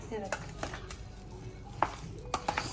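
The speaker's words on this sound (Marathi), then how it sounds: "आता चमच्याने मी मिक्स करणार आहे" A spoon stirs and mixes spiced potato filling with plenty of fresh coriander for homemade vada pav, giving soft scraping knocks against the pot at an uneven pace, close and moderately quiet, with faint kitchen clatter.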